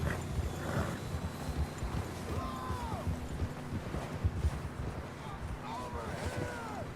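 Horses trotting along a mountain trail in the Red Dead Redemption 2 video game, their hooves clopping steadily under wind and other outdoor noise, with voices speaking over them.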